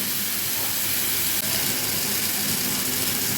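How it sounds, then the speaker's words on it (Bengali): Water is poured into a pan of mango pieces frying in mustard, setting off a loud, continuous hiss of steam and sizzle that holds steady throughout, with no talking. "এটাতে এবার জল ঢেলে দেব"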